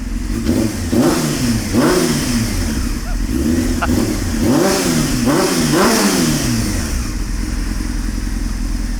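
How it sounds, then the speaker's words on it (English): A car engine revs up and down repeatedly in uneven bursts, loud and close, between stretches of rough idling. "Let it warm up for a few minutes. We haven't heard this music at Jenny's garage before."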